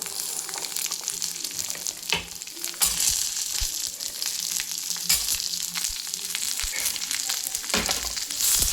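Shallots and garlic for pirandai chutney sauté in hot oil, a loud, continuous close-up sizzle broken by occasional stirring scrapes and clacks, with no talking.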